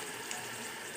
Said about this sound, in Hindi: बस इसे भूनते हैं